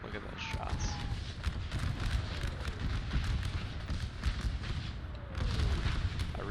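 Cannon artillery fire in the video game Napoleon ACW, a string of booming shots and sharp impacts landing at irregular intervals across a battlefield, with someone talking over them.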